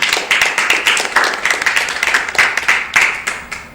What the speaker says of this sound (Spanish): Denle las palmas al Señor